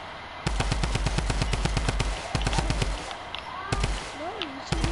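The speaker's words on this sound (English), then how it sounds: "Why are you shooting at me?" Rapid bursts of automatic gunfire from a video game rattle in quick, loud volleys with short pauses, and a voice is heard faintly in the background.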